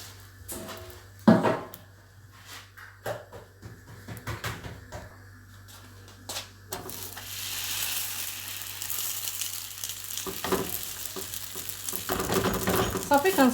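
Oiled pan frying for Moroccan rfissa, quiet clinks and handling noises at first, then a steady sizzle rising and spreading through the second half, close and growing louder.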